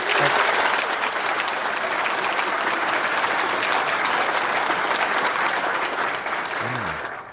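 Sustained applause plays over a video call, a loud, even wash of clapping that runs continuously and tapers off right at the end.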